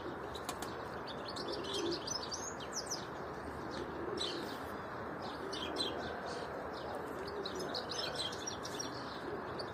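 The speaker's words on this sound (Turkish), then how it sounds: "Orada da bayağı bir kuş var." Many birds chirping and tweeting in scattered bursts over a steady background hum, moderately distant, with no voices.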